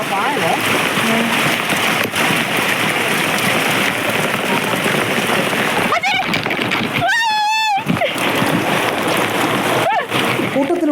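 Forest guards wade through a flooded forest stream in heavy rain, with dense, continuous splashing and rushing water close by and a brief high call cutting through near the end.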